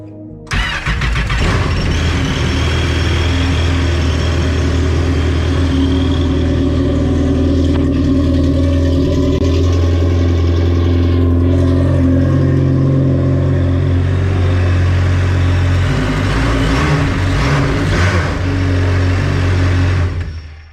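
A GP 1800 jet ski engine on a cart cranks, catches and settles into a loud, steady running drone close by for about twenty seconds before cutting off at the end.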